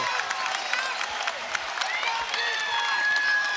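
Spectators at a varsity boys' basketball playoff game clap and cheer in a steady burst of applause after a made free throw, loud and continuous, with a commentator speaking over it.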